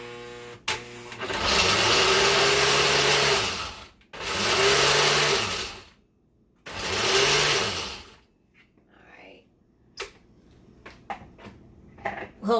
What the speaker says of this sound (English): I want to give it a quick blend before I add the other stuff in it